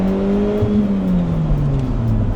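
A combustion-engine car accelerates from low revs, its engine note climbing steadily and loudly up close without any talk.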